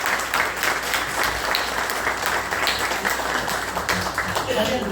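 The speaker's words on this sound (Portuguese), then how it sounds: "Uma salva de palmas para Jesus, amém?" Church congregation applauding during a celebration service for an 80th birthday, steady dense clapping filling the room throughout, with voices carrying underneath.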